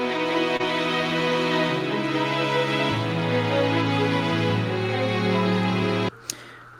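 Layered sustained string pads blend with arpeggiated strings moving through one chord progression, a dense continuous wash that cuts off abruptly near the end, followed by a brief faint tail.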